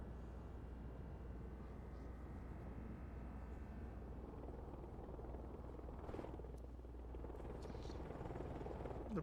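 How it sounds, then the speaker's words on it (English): In the video game Broken Arrow, a helicopter flies over with a steady low rotor rumble and whine that holds throughout and swells slightly toward the end. "this helicopter flies over"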